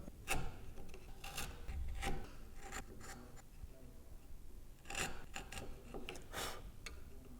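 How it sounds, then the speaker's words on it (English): Scraping, rasping strokes of a smaller chisel paring the internal corners of a hand-cut wooden dovetail joint held upright in a vise, in irregular bursts with short pauses, close and fairly soft. "get a smaller chisel, have it upright in the vise, and then finish off these internal corners upright like this"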